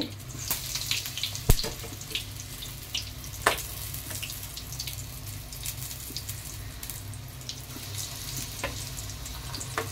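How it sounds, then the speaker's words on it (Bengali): Water lily flower fritters frying in hot oil, a continuous close, crackling sizzle with occasional sharper pops and utensil taps, no talking. "আরও কিছু আছে সেগুলিও আমি ভেজে নিচ্ছি একইভাবে।"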